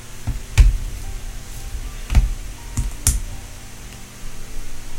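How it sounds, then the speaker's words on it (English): A typewriter in the video game Deadly Premonition clacks out a few sharp, irregularly spaced keystrikes, fairly close and distinct against a quiet background. "Typewriter. Of course he uses a fucking typewriter."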